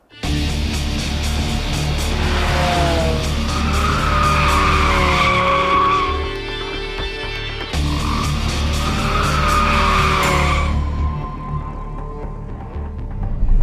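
A Porsche 718 Cayman GT4 RS with a 4-litre flat six revving toward 9,000 RPM screams close and loud, climbing through two long rising runs with a gear change between them and tire noise underneath.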